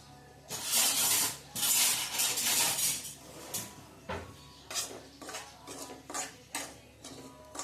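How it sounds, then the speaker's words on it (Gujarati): Semolina roasting in ghee in a kadai on a gas stove, with steady scraping and stirring against the pan in bursts, close and fairly loud, no talking. "અને આપણે આ રવો એમાં અસલ શેકી લેવાનો છે"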